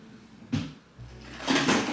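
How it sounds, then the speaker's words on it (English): Drawers yanked open and rummaged through in anger, a sharp bang followed by a low rumble and then a burst of clattering and rustling, close and loud with no talking. "Angrily digging through my drawers right now."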